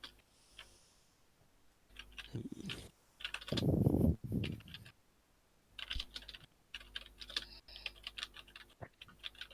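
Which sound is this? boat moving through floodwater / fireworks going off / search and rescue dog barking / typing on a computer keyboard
typing on a computer keyboard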